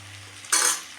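Vegetables for wheat rava kichadi sizzle loudly in a pan over high flame, with a short burst of frying and stirring that starts abruptly, flares close and then fades.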